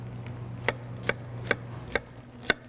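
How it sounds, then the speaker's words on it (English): A knife chopping an onion on a cutting board, five crisp evenly spaced taps about half a second apart, close and quiet over a low steady hum. "I like to flip it over again and continue the same cutting across the onion."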